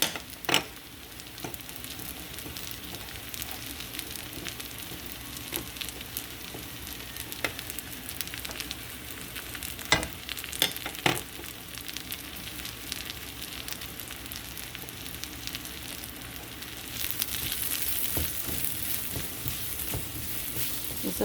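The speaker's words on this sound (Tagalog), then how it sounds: "Then saka natin isote yung sibuyas or onion." Onion sautéing in a pan with garlic that has been browned, giving a steady low sizzle with occasional sharp clicks and scrapes of stirring throughout, growing a little brighter and louder near the end.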